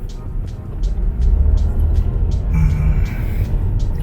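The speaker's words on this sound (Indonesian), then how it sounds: "Suara mesin masih masuk tapi itu tipis-tipis sekali" Muffled engine hum from a Mercedes-Benz W211 E240 Avantgarde filters into the well-insulated cabin while driving, a low steady rumble with a slight rise partway through.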